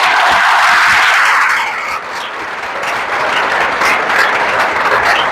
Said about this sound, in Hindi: और इस ग्रुप के लिए जोरदार तालियां।